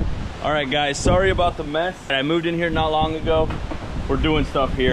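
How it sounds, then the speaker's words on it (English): Gusty wind buffets the microphone outdoors, rumbling under someone talking close to the mic. "I'm also sorry about the wind. It's hurricaning out."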